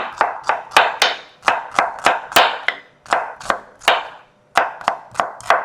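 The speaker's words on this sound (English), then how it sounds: "Cut my onions very fine" A knife chops onions finely on a board in a quick, steady run of sharp thwacks, about a dozen close, loud strikes with one brief pause partway through.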